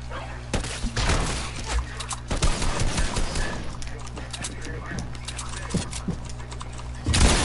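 Fortnite gunfire pops off in scattered sharp shots and short volleys throughout, mid-distance and moderately loud, mixed with game effects while a player talks over it.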